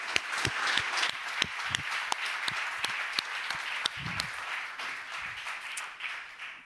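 An audience claps through an opening broadcast of a charity telethon, sharp individual claps standing out over a dense, steady wash of applause that continues without a break.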